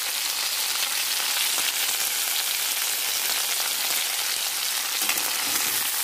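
Raw mango mixed with salt and turmeric in a pan for a spicy side dish makes a dense, continuous hissing sizzle, loud and close, with faint stirring scrapes underneath and no voices.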